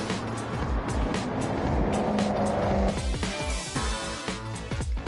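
In Gran Turismo 7, an engine-swapped Plymouth Superbird revs loudly and unevenly, with the engine note rising and falling through gear changes and brief tire squeal, and no one talking.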